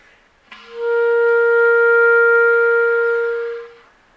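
One sustained C on clarinet, played with the left pinky lifted, rises quickly to full strength and holds steady for almost three seconds before tapering off, solo and close.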